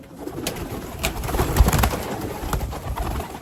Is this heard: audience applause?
no